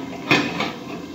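A metal lid set onto a cooking pot of bottle gourd with fish head, a sharp clank followed by a softer second knock, close and alone.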